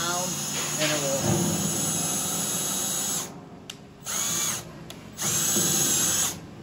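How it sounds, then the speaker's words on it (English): A power drill with a small pilot bit bores starter holes for rivet nuts in a workshop, whining steadily in three bursts separated by short pauses, close and fairly loud. "Using a smaller drill bit to start it out will help it from walking around"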